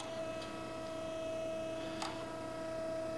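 A Reid 6 x 18 inch hydraulic surface grinder, made in the USA, runs in automatic mode with its table traversing. It gives a steady, even electrical hum with a faint tick partway through and no voices.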